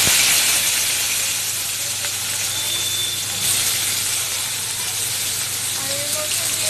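Olives dropped into hot oil with fennel seeds for a chutney give a steady broadband hiss and sizzle, fairly loud and close, continuing evenly with slight surges and no talking.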